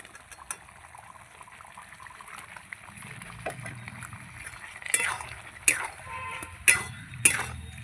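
Boiled potatoes being stirred into cooked-down spices with a spatula in a pan for aloo dum, giving soft scraping and sizzling that builds into several louder clanks of the spatula against the pan near the end.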